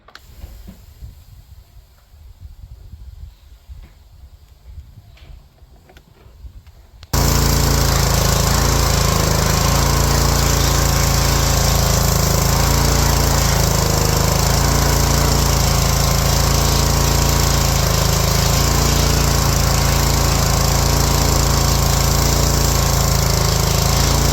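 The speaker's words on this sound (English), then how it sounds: "once I've finished pressure washing" Pressure washer blasting a boiled roe buck skull: after a few seconds of quieter handling noise, a loud, steady roaring hiss starts abruptly and runs continuously to the end.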